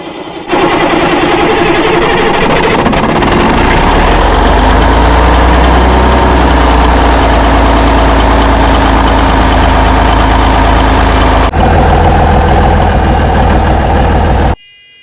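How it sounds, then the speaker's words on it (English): A Cummins 350 big cam diesel in an old truck that sat for years in a cow paddock idles loud and close, a steady heavy low chugging that runs evenly throughout and cuts off abruptly near the end. "The 350 big cam Cummins, ticking away there nicely."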